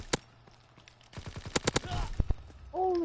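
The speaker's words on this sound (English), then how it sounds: "Holy crap, they're using shotguns" Gunfire in the World War II shooter game COD WWII, with a cluster of sharp shotgun-style blasts in rapid succession amid other game noise, followed by a brief tonal sound at the end.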